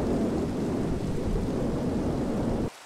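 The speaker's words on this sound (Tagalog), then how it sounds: "dumating na ang napakalakas na bagyo" Heavy rain and a thunderstorm in the game Minecraft: a dense, steady roar of rainfall with low rumbling holds at an even loudness for almost three seconds, then cuts off abruptly into near silence.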